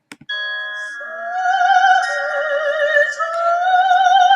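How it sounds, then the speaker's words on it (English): Bells from a recording of a song ring out in a loud, sustained chime with wavering tones, heard alone after two brief clicks at the start. "you hear the very low clarinet doing it, and then is imitated by the bells"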